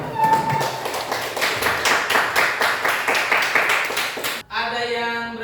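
Classroom applause from students, a quick run of close, bright claps lasting several seconds that stops abruptly, followed by a voice speaking.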